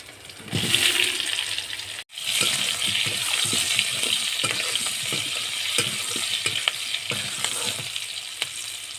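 Bay leaf, dried chili and pre-fried potatoes sizzle loudly in hot oil in a pan, a dense steady crackling hiss with small pops throughout, briefly cut once near the start, with no voices.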